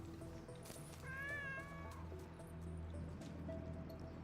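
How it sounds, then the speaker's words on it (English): A cat meows loudly nearby in one drawn-out, wavering call partway through, over a steady background hum. "Also, I hope you like listening to that kitty cat."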